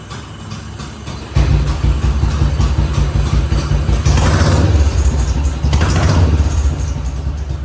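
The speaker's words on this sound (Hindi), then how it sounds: "अब 500 से स्टार्ट करते हैं।" A Royal Enfield Bullet 500 motorcycle starts after a brief quiet moment, settling into a loud, close thumping idle with a couple of throttle blips rising in the middle.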